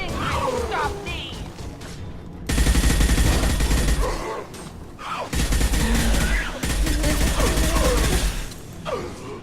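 Heavy automatic gunfire in the sci-fi shooter Mass Effect 2, loud sustained bursts in several long blocks separated by short gaps, with lighter crackling and effects between them.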